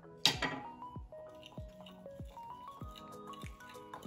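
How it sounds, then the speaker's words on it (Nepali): Flour, turmeric and salt being worked into a paste with water make a faint, regular series of wet squelches and drips, about eight in steady rhythm, close by. "पानी राखेर यसलाई पेस्ट बनाउने।"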